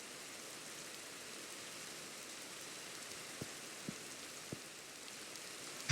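Rain falling in the Minecraft video game, a faint, steady hiss of soft rainfall throughout, with a few quiet clicks and taps near the end.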